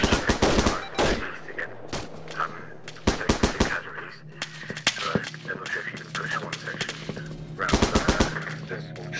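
Arma 3 military gunfire: bursts of automatic rifle and machine-gun fire crack close and loud in several clusters, with scattered single shots in between and a few faint voices underneath.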